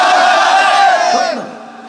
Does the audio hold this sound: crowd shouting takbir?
yes